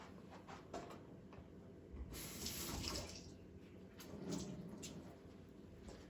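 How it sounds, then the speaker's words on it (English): A Breville Barista Pro BES878BTR steam wand is purged, giving a soft hissing spray of steam and water with a louder burst midway and another swell later, fairly quiet overall. "I'm just going to spray some steam and water through the holes."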